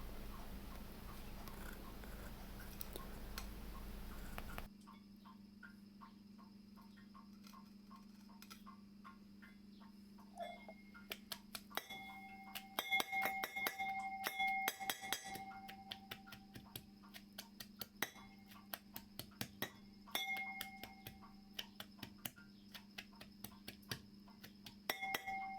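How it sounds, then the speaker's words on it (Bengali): Fried onion and garlic are pounded in a mortar and pestle, giving sharp, close clinking taps in irregular bursts after a quiet start with a faint background hum. "নিয়ে একটা হামানদিস্তার মধ্যে দিয়ে আমি পেঁয়াজটাকে রসুনটাকে একটু কুটে নেবো।"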